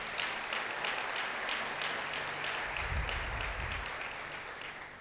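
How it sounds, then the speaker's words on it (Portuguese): A church congregation claps together in a steady wash of applause that keeps up at an even level. It sounds moderately distant and roomy, and no one speaks over it. "Você pode aplaudir o Senhor Jesus?"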